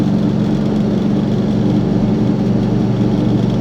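A 1968 Volkswagen Bus engine, freshly installed with no sound dampening yet, runs loud and steady as heard from inside the cabin with the windows rolled up, giving a constant low rumble with rattling and no speech.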